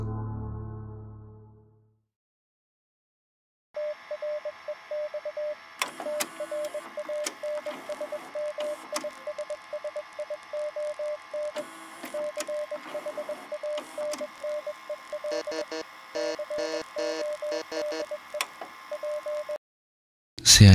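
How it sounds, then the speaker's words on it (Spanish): Steady high-pitched electronic tones and rapid beeping like a Morse code transmission in a Jurassic Park themed analog horror piece, running continuously for about sixteen seconds with clicks and static, after a short low burst at the start. "al menos pude descifrar estos tonos altos que suenan al final"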